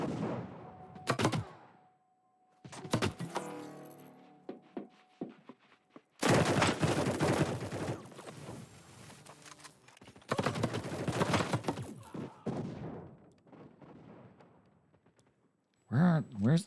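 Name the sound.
gunfire in the video game Battle Prime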